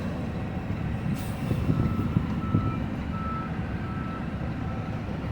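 A tractor-trailer backs up at night at a Union Pacific rail ramp, its reversing beeper sounding steadily over a loud, continuous diesel engine rumble close by.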